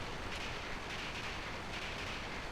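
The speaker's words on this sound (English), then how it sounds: "Stop the train!" A moving train in Final Fantasy VIII gives a steady, dense rumble with a continuous rushing hiss throughout, no talking heard.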